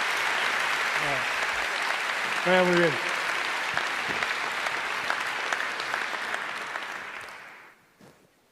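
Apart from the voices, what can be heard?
applause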